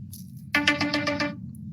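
A phone ringtone for an incoming call: a faint chime, then a louder, melodic burst of rapid repeated electronic tones lasting under a second, close and clear, with no speech.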